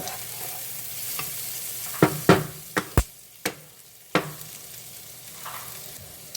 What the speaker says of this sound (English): Okay, at this point I'm going to add in some butter. And I'm also going to start adding in my cabbage.